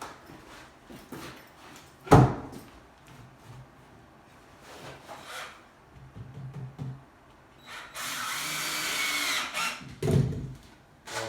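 A power drill drives screws into boards on a trapper's cabin build, with a sustained whirring burst late on amid scattered knocks and thuds of handling wood.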